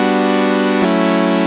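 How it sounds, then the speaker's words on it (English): A steady sustained synthesizer tone with a buzzy, slightly softened saw-triangle timbre, rich in harmonics, holding a chord that shifts briefly midway. "It's sort of a mix between a saw and a triangle wavetable"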